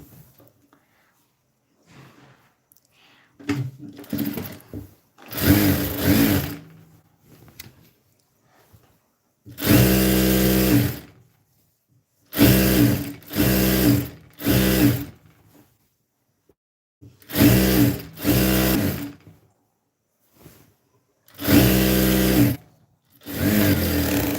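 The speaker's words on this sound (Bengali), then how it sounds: "এখন আমি সেলাই করব রাবারটা" A sewing machine stitching rubber runs in several separate bursts of a few seconds each, loud and close, with quiet pauses between them and no talk.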